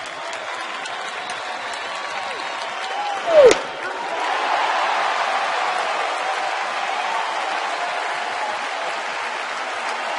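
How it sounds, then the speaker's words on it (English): A crowd at an Atlanta baseball game keeps up a steady roar of cheering and applause. A sharp crack or thud stands out once, and the crowd swells slightly after it. "Great crowd tonight."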